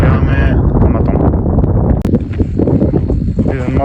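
Strong wind gusts on a mountain ridge and buffets the microphone, loud and continuous with roaring rumble throughout, someone speaking over it.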